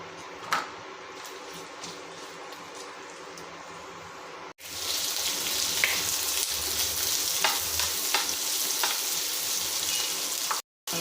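Medium-sized sliced onions tossed into hot oil in a pan for a chicken gravy, sizzling loudly and steadily after a brief quieter stretch, with stirring scrapes throughout.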